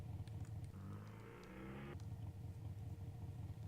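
A scripted motorcycle in Second Life starts up in a test ride, a steady low engine rumble with a brief rising rev mid-clip before settling back to a constant drone.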